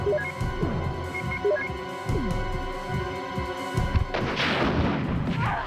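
A rocket launcher is fired at the Tyrant in the original Resident Evil, giving a loud whooshing burst toward the end that follows a stretch of throbbing game music and thuds.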